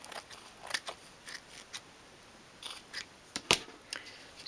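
Small scissors trim fabric for a 1/12th scale dolls house sofa, a series of quiet, crisp snips at irregular intervals, near and isolated, with one sharper cut toward the end.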